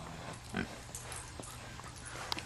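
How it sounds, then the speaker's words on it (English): A pig makes a short grunting oink near the middle, heard faintly over low background noise at a farm where a horse is also present. "the pig wants to play with you."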